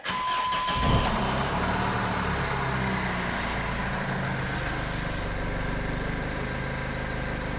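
A Jeep engine, low on power with no boost, starts with a brief crank and then runs at a steady, loud idle, close by with no talk.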